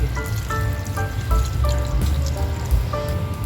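Water is poured into a cooking pot of fish with pepper and salt for paksiw na bisugo, a close, steady trickling pour with bubbly, dripping tones rising over a low rumble.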